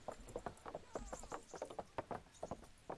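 Horse hooves in the video game Kingdom Come clop in a steady, quick rhythm, faint and close-sounding, with a low murmur of background sound underneath.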